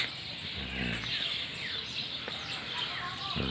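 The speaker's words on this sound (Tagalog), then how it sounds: "Diba yung ibon, no?" Small birds chirp in the background of an outdoor morning scene, faint repeated high tweets drifting under a steady ambient wash with some low rumble, no talking over them.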